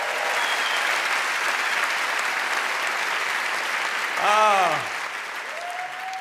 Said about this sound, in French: Merci de m'applaudir, ça me donne du courage